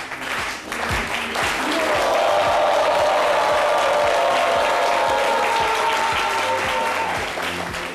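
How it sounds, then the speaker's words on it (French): A French television studio audience applauds as a guest is brought onto the set, the clapping swelling into a steady, dense roar that holds for several seconds before easing slightly. "J'ai l'impression que vous êtes un peu timide quand à applaudir."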